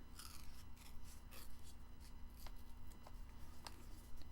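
Paper being torn off a printable journal sheet for camp-themed crafting, a series of short crisp rips and rustles close by over faint background hum, with no talk.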